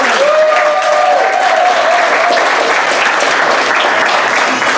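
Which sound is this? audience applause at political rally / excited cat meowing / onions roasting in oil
audience applause at political rally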